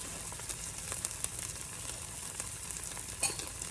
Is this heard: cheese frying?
yes